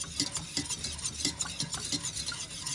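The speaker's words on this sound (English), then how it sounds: "Going to add in half of our milk. We're going to give that a good whisk up. Get all our lumps out." A whisk beats milk into a thick sauce to break up lumps, giving a steady, rhythmic scraping and swishing against the bowl, close and moderately loud with no voices.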